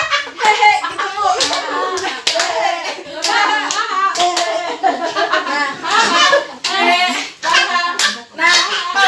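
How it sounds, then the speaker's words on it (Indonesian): A group of women at an Islamic talk clap their hands together in irregular, crisp bursts while voices laugh and chant over the claps. "tapi sambil tepuk tangan"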